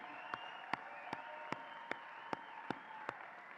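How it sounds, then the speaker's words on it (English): About eight sharp, evenly spaced claps at a commencement ceremony, ringing over a steady hall murmur at moderate volume, as graduate pharmacy students stand. "Let's give them a round of applause."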